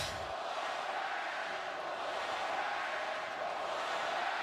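A large crowd at a Florida State versus NC State college football stadium roars steadily, a dense, far-off wash of cheering that holds at an even level throughout.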